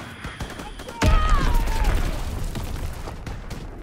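Video game gunfire and explosions from Call of Duty: WWII in a Hardpoint match erupt in a loud, close burst, a heavy blast and rattling shots, then a sustained roar of battle as talk runs through it.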